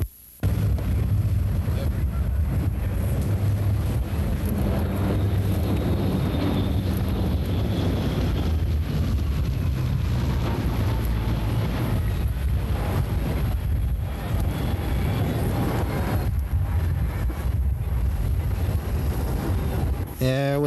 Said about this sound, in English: the flight crew has elected to restart their number 1 and 4 engines